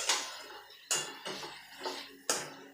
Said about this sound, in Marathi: अजून परत एकदा आपल्याला झाकण ठेवायचं आहे